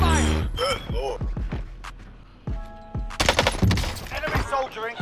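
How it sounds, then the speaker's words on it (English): Gunfire in Call of Duty Warzone comes in quick automatic bursts and sharp cracks, mixed with game voice callouts and other effects in a busy, loud combat scene. "Taking direct fire."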